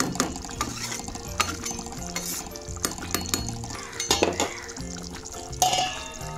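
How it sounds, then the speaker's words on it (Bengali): Prawn malai curry made with giant freshwater prawns is stirred in a pot, giving soft wet sloshing of thick gravy with intermittent clinks of the spoon against the pot. "হালকা একটু তার আগে নেড়ে দিচ্ছি, দেখতে পাচ্ছ"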